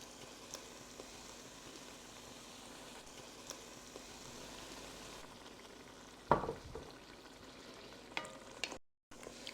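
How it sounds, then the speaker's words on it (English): Green onion and garlic frying in a pan as stout beer goes in, a steady quiet sizzle with a sharp splash-like burst midway and a few clattering touches near the end. "Now I'm going to add the stout beer, 12-ounce bottle."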